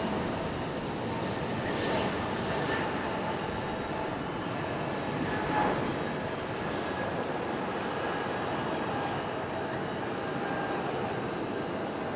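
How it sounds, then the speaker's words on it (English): A JetBlue Airbus A220 takes off at Raleigh-Durham airport, heard as a steady, broad jet roar that holds fairly constant throughout, with no voices. "JetBlue A220 off and rolling."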